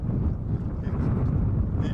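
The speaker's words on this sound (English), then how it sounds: "You hear that wind?" Strong wind roars and buffets the microphone beside a small pond with whitecaps, a steady, heavy low rumble with no letup.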